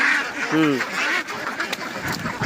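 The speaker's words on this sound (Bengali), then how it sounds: "হাঁস আছে এখানে 2000" Ducks on a farm holding about two thousand birds quack in short nasal calls close by, mixed with other farm noise and a person speaking.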